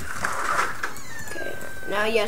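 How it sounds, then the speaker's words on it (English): A stray cat gives a drawn-out meow outdoors, somewhat distant, while someone talks over it, with room noise throughout. "If you hear a cat meow, that's probably one of the cats outside."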